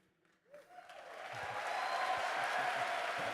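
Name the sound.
audience applause at Gamescom Opening Night Live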